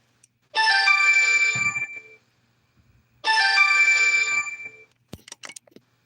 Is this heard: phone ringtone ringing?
yes